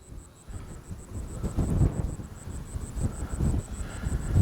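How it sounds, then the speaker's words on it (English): Strong wind buffeting a microphone fitted with a wind muff at an outdoor RC airfield, a rough low rumble that swells and gusts, with a faint steady beeping tone above it. "Yeah, it's so windy,"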